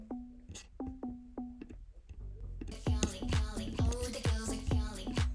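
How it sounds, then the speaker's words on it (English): A plucked bass synth line for a K-pop remake, heard first as sparse notes with clicks, then as repeated notes under a full, busy beat with punchy low hits. The pluck is loud and close throughout. "Bass pluck."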